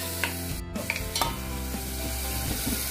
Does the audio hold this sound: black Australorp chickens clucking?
no